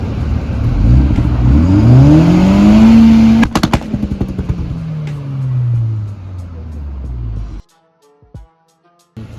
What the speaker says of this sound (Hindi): exhaust sounds so sweet